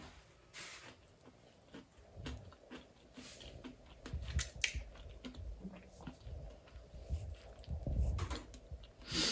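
Crunchy southern fried breaded vegan chicken bites being chewed up close, with irregular crisp crunches and snaps building through the bite, fairly loud against a low room background.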